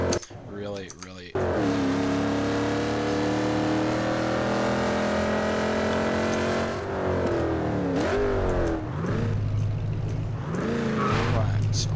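Car driving in a video game server, a steady engine drone holding pitch, then shifting and rising as it revs and slows, with a voice talking over it near the start.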